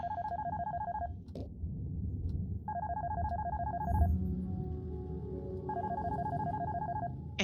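Phone ringing in the horror game Darkness Within: Pursuit of Loath Nolder, three bursts of a warbling electronic ring separated by pauses, loud over a steady low rumbling ambience with no talk.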